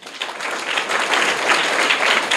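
Loud applause from a crowd at a government school prize event in Bihar, a dense continuous roar of clapping building quickly and holding steady throughout.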